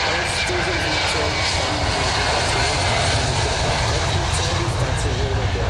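Antonov An-178 aircraft, registration UR-EXP, roars through a flying display at the ILA Berlin Airshow 2016. A loud, continuous engine rumble and whine fills the whole span, with an announcer talking underneath.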